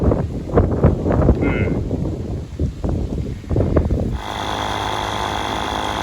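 A compressor pumping up a tyre on a Volvo, starting with gusty, rumbling wind buffeting and then settling into a steady, droning mechanical hum.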